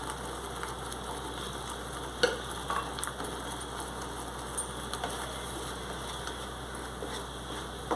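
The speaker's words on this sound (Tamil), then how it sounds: "இது கொஞ்சம் இந்த ரா ஸ்மெல் போற வரைக்கும் கொஞ்சம் வதக்கி போ" Potato kofta gravy sautéing in a pan after crushed kasuri methi is added, giving a steady, close sizzle and frying hiss with a few light stirring clinks, with no talking.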